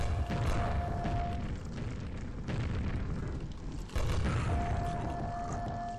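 Booming grenade launcher blasts in the video game Quake, a few dense, loud detonations with rumbling low end, one sharp burst near the middle, over a constant game ambience with a faint steady tone.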